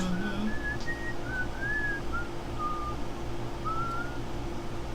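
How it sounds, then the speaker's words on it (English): A person whistles a soft, wandering tune of short and drawn-out notes at a tabletop game recording, fairly quiet over a steady low room hum. "Please don't whistle while we're recording."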